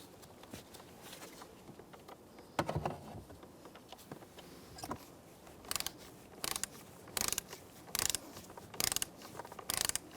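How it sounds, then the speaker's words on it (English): A torque wrench ratchets while tightening bolts on a 2002-2005 Ford Explorer steering column shift linkage coupler, giving quiet clicks and then a series of sharp, close ratcheting bursts in a steady rhythm. "I'm just going to bottom them out and torque them to the specs, which is 80 inch-pounds"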